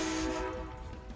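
A passing train sounds its horn near a street during a shopping trip, a steady sustained horn tone over broad rumbling traffic noise, fairly faint and brief with no talk.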